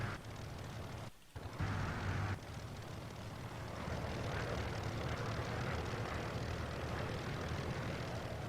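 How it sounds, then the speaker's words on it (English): A propeller aircraft in Microsoft Flight Simulator X makes a low pass, its engine a dense, steady drone that dips briefly and then swells to a loud, sustained roar. "So the plan as we approach Goodwood is we'll do a low-pass flyover"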